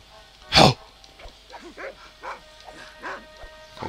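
A dog barks in the Red Dead Redemption video game: one loud, sharp bark near the start, then a string of softer yips and whimpering cries.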